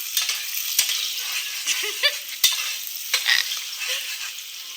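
Onions fry and are stirred in a pan during home cooking of a non-veg Sunday meal. A steady sizzle runs throughout, broken by repeated scraping stirs and a few sharp clanks.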